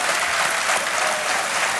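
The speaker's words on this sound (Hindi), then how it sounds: "तालियां बजती रहें देवियों सज्जनों।" Steady, dense applause from a television quiz show studio audience, filling the short stretch at an even loudness with no voices over it.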